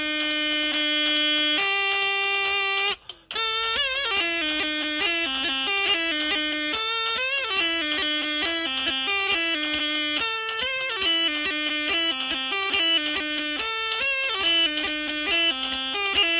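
A phone beat app plays a programmed electronic pattern together with a vulture-bone flute on the Viennese tune "O du lieber Augustin". Bright, buzzy stepped tones and melody run steadily throughout, with a short break near the start.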